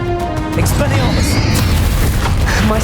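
Spells striking a dragon in the Hogwarts Legacy final boss fight; loud booming magical blasts and rumbling bursts that fill the whole stretch, with game voices mixed in.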